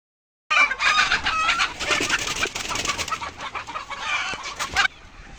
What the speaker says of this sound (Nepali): उता हुर्किँदै गरेका कुखुराहरू रहेका छन्।